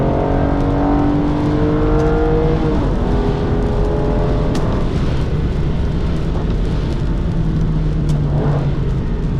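An Aston Martin DB9 on a race track roars loudly from inside the cabin, its engine note climbing through revs then dropping under braking, with constant road and wind rumble throughout.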